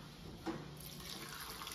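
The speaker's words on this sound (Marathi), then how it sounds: "आता आपण पाणी ओतूया" Water poured into a pressure cooker holding vegetables for pav bhaji, a soft, steady splashing stream that stays faint and close throughout.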